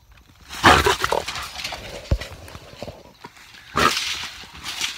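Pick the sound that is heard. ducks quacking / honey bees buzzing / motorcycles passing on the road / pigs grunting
pigs grunting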